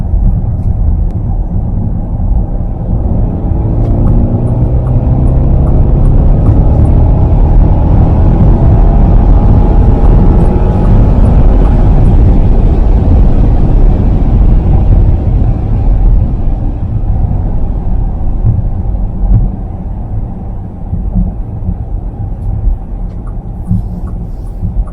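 A Bentley Flying Spur accelerating in comfort mode gives a loud, low engine rumble that holds steady throughout, with a slight swell in the middle and no talking over it.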